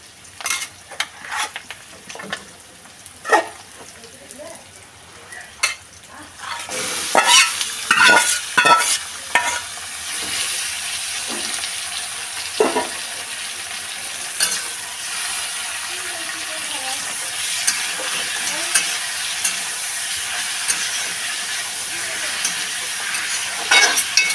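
Desi chicken meat frying in a pan, a loud steady sizzle that swells after a few seconds of spoon scrapes and clatter, with stirring knocks throughout and no talk.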